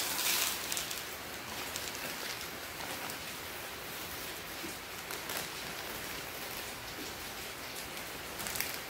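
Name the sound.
heavy rain falling at night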